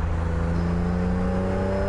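A BMW Z1 engine hums steadily while downshifting, a close, even drone with a faint rising whine and no distinct rev spikes.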